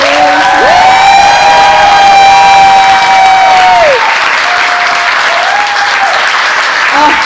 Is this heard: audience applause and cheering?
yes